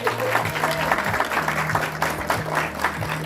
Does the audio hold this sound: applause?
yes